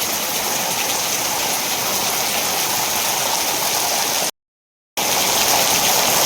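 Steady rain falling near a filled lake, a dense even patter and wash that runs continuously, breaks off abruptly for a moment, then resumes at the same strength.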